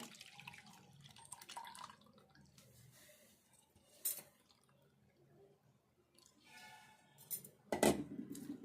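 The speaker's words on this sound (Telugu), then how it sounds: "ఒక గిన్నె తీసుకొని ఇందులో అడగోసుకోవాలి. ఇట్లా వడకట్టుకోవాలి." Cooked tamarind and brinjal stew being strained into a bowl gives soft liquid trickles and drips with a few sharp clinks of utensils against metal, quiet overall with two louder knocks.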